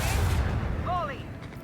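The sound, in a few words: lance battery volley firing in Warhammer 40k Rogue Trader video game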